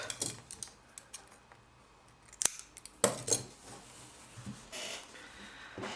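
Scissors snipping crochet yarn: a few quiet, sharp snips and metallic clicks, close by, scattered across a soft background with no talk.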